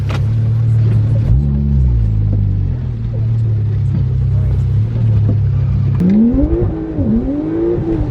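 A 2020 Toyota Supra fitted with a bigger turbo accelerating hard, its engine rumbling loudly and rising in pitch through a gear change, then climbing again in a second pull near the end.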